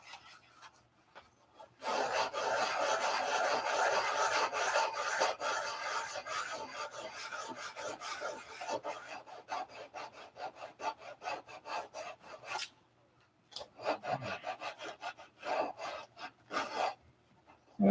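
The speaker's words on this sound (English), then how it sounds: "The trick to sanding without using a block is never sand back and forth." Sandpaper is worked by hand in circles with no sanding block, giving a close, rasping scrub that runs steadily for several seconds, then breaks into quicker, uneven strokes separated by short pauses.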